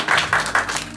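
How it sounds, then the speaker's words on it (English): Brief burst of audience clapping at Mercy College's Black History Month community reception, a few distinct claps heard close and fairly loud for about a second. "Clap for that."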